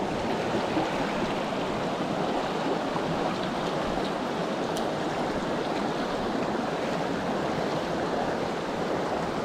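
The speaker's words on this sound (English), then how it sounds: "the water's so swift" A swift river rushes past, a constant broadband roar of flowing water with no pauses, close and fairly loud throughout.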